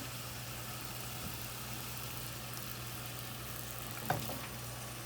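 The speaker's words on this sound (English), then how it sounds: "so we'll let this sweat" Vegetables sweating in a pot for broccoli cheese soup: a steady, faint low sizzle and hum throughout with a single brief clatter near the end, no voices.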